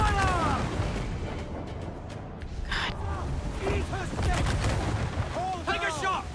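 Ship cannon fire in the pirate naval game Assassin's Creed IV Black Flag, a dense busy battle mix of repeated booming shots and impacts with shouting and talk layered over it throughout.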